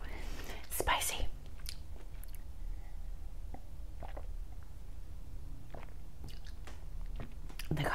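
Close, quiet chewing and biting of fresh Florida pink shrimp dipped in spicy tequila cocktail sauce, with a couple of louder crunchy bites early on and soft mouth sounds throughout.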